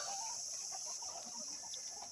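Chickens cluck faintly and continuously at a farm, soft scattered calls under a steady background hiss.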